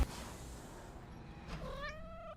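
A cat gives a short rising meow in an Ahsoka episode, a single faint call near the end following quiet ambient noise.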